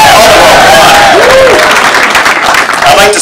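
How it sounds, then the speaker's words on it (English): An indoor community-centre crowd in Aldergrove applauds and cheers loudly and continuously, with some shouts mixed into the clapping. "Come on, you can cheer about that."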